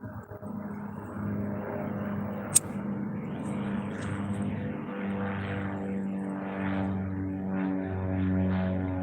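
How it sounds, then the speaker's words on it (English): A small Cessna airplane with a Continental engine drones steadily overhead, a continuous propeller hum with slowly pulsing swells and a single sharp click partway through. "That sounds like an airplane. Sounds like a Cessna. A small one. with a Continental engine."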